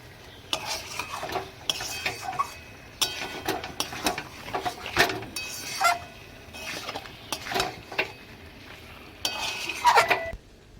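Mutton curry is stirred and sautéed in a metal pot, a ladle scraping and clanking against the sides in irregular bursts over a low sizzle, close up with no voices.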